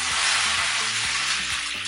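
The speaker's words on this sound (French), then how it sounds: "je vais verser un peu de jus dans ma casserole" Loud hissing sizzle as a little meat juice hits a hot pot while cooking Cameroonian eru, a steady bright crackle lasting a couple of seconds.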